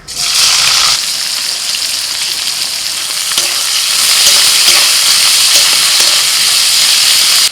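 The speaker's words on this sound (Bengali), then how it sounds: "কিছুটা পেঁয়াজ কুঁচো রেখে দিয়েছিলাম সেটা দিয়ে দিচ্ছি তেলের মধ্যে" Chopped onion frying in hot oil with bay leaves, cardamom, cloves and cinnamon, giving a loud, steady sizzle and hiss that swells slightly midway, with occasional stirring and no talking.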